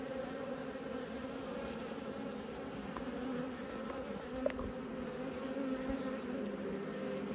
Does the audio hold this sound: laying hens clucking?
no